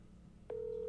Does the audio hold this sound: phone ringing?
yes